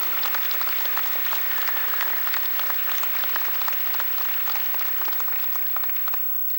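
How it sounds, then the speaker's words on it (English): Audience applause for master's degree graduates at a Missouri Southern State University commencement, Fall 2016, a steady, moderately distant wash of many hands clapping that carries on for several seconds and slowly tapers. "give our master's degree graduates one more round of applause"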